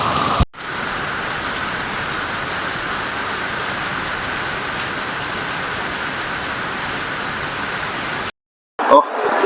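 Heavy rain pours steadily outside, a loud continuous hiss that holds unbroken for about eight seconds before cutting out briefly, with a few other sounds returning at the end.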